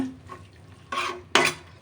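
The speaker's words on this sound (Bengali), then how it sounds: "এবার আমি মশলাটাকে আরেকটু কষিয়ে নেব" Spatula scraping and stirring spice paste in a pan for a beef curry, with two louder bursts of clattering, sizzling contact against a quiet kitchen background.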